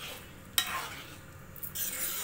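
A pot of sambar bubbling and sizzling as a spoon stirs through it, with a brief scrape of metal, close and moderately quiet.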